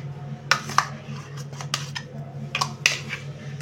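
A spoon clinks and scrapes against a bowl while mashed coconut and amla chutney is transferred into it, several sharp metallic taps over a steady low kitchen hum.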